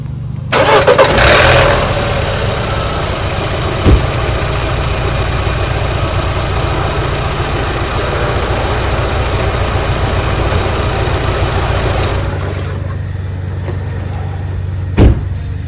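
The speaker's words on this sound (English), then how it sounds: "I guess just kick it over and make sure it starts." An Audi A4 engine cranks and catches with a loud burst, then settles into a steady, even idle that runs on for several seconds with a brief dip near the end.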